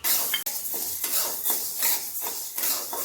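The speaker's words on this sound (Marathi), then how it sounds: "थोडी भाजून घेऊया." Sorghum grains dry-roasted in a pan over medium heat and stirred continuously, a close, steady scraping and rattling with rhythmic pulses about every half second, no voices.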